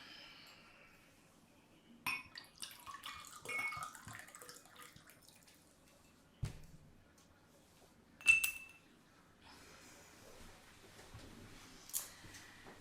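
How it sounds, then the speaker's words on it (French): Water poured into a drinking glass during a quiet indoor ritual, with a few faint clinks of glass, a trickle and soft splashing against near silence. "je vais mettre encore de l'eau."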